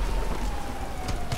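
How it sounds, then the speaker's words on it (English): Steady broadband rain hiss from the Grand Theft Auto 5 game world, falling continuously at moderate level while a car drives through it, with a faint siren-like tone running underneath. "This rain is hard to drive in."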